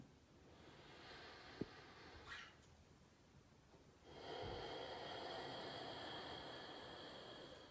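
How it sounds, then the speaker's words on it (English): Slow, deep pranayama breathing: a long, quiet airy inhalation followed by a steadier, louder breath through the second half, with one sharp click early on, no talk. "So now we're continuing on with that breathing."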